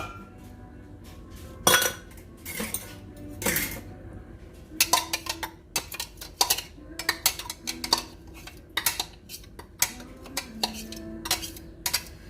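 Pupusa dough made with brisket and flour is stirred in a bowl, with repeated clinks and scrapes of utensil against the dish in an irregular rhythm, fairly close and alone.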